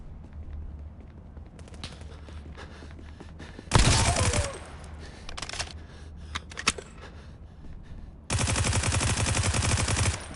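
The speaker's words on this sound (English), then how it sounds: "What am I shooting at?" Automatic gunfire in a shooting video game, two loud sustained bursts of rapid fire separated by scattered single shots and clicks over a low steady hum.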